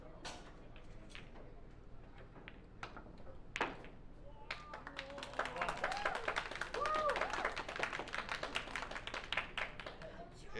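A snooker match crowd breaks into applause: scattered claps at first, swelling into steady, dense clapping that carries on to the end, with a commentator's voice running underneath.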